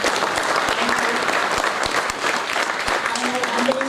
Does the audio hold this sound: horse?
no